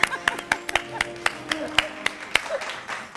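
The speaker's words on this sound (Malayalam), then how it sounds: "നല്ലൊരു കൈയടി" Scattered, sparse hand claps at a Malayalam TV game show, about a dozen sharp separate claps in an irregular rhythm, fairly close, with no sustained applause wash and a faint voice in between.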